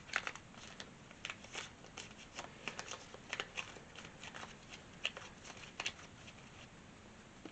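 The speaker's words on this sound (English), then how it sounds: "Let me shuffle this one more time." Tarot cards are shuffled close by in soft, quick riffling bursts, faint crisp flicks and patters repeating over a quiet background.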